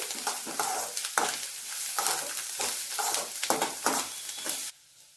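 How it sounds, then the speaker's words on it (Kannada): Capsicum stir-fried in a pan until soft, with steady sizzling and bursts of stirring and scraping that come in repeated waves, close and fairly loud, cutting off abruptly near the end. "ಇವತ್ತು ಕ್ಯಾಪ್ಸಿಕಮನ್ನು ಈ ರೀತಿಯಾಗಿ ಹುರ್ಕೋಬೇಕು"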